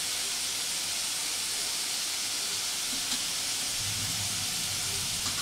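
Potatoes fry in a pan with salt, turmeric and ground spices for samosa filling, a loud continuous sizzling hiss close up with no talking.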